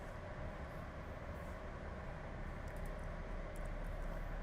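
A Roblox SCR train sits at a station platform with a steady, faint, broadband rumble and hiss of the train, unbroken throughout, with a few soft high ticks near the end.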